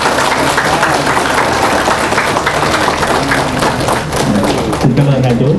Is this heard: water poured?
no